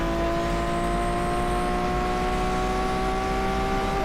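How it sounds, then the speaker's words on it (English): In the Asphalt 8 racing game, a car engine drones steadily behind the player's car, a sustained high mechanical whine with layered harmonic tones and no break. "Oh, I hear an interesting sounding engine right behind me."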